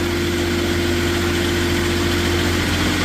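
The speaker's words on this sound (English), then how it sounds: "We're going to fire up this Kohler engine." The Kohler engine on a 2015 Moffett M8 55.3 truck-mounted forklift runs at a steady idle, a loud, continuous low hum with a regular vibrating rhythm and no talk.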